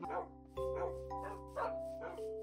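Dogs barking in Minecraft, a series of sharp yips and barks about every half second over a steady low hum, close and moderately loud, no talk.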